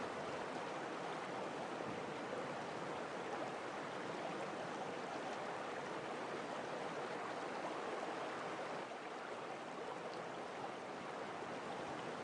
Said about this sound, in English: So this is, of course, a qanat.